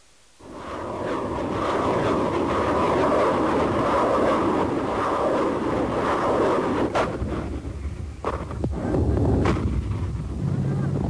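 Artillery bombardment from the Iran–Iraq War, heard as a loud, sustained roaring rumble with wind-like noise, followed by a few sharp, distinct blasts near the end.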